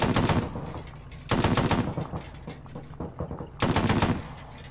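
Three loud bursts of machine gun fire in a video game, each lasting about a second, with quieter distant shots and battle ambience filling the gaps between them.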